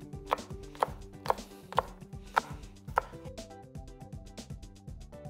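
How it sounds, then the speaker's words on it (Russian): A knife chops a bell pepper into cubes on a cutting board, about six crisp strokes at an even pace, then stops while music plays throughout. "В салат я режу перец кубиком."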